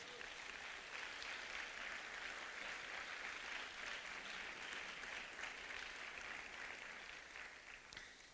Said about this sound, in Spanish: Podemos dar una ofrenda de palmas.